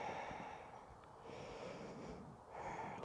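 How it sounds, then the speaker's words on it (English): Slow Ujjayi breathing during a yoga session in a state park, quiet throaty inhales and exhales in a soft rhythmic cycle, close and faint, with no talking. "Hearing the sound of the Ujjayi breathing."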